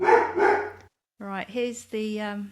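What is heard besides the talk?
dog barking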